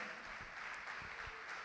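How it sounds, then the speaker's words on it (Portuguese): Congregation clapping during a church sermon, a steady dense patter of many hands sustained at moderate level for under two seconds, with no voices rising above it. "Vamos aplaudir ao Senhor por isso"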